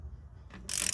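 A lug nut spins down onto a front wheel stud of a Nissan R50 Pathfinder, pulling the longer stud into the hub: quiet low mechanical rumble, then a loud, sustained hissing whir of a power tool near the end.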